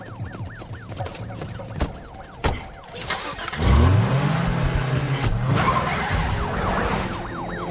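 A car engine cranks and fires, then revs loudly in a rising, sustained roar, preceded by tense rhythmic sounds and sharp hits in a horror film scene.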